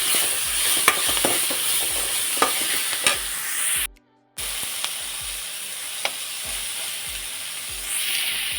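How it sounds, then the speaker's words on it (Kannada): Soya chunks roasting in a hot pan, a steady dry sizzle with a spoon scraping and stirring in sharp repeated strokes, close up, one brief dropout midway, no voices. "ಇನ್ನು ಚೆನ್ನಾಗಿ ನೋಡಿ ಈ ಥರ ರೋಸ್ಟ್ ಮಾಡ್ಕೋಬೇಕು"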